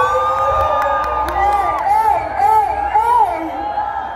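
A concert crowd in Githurai shouts and cheers loudly, with a few raised voices whooping in rising and falling bursts over a dense background roar.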